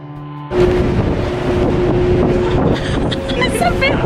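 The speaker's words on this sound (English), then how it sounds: "It's a bit windy." Strong wind buffets the microphone outdoors on a chilly waterfront in Port Angeles, Washington, a steady loud rush that builds suddenly after a quiet start and continues throughout, with a faint tone and brief voices beneath.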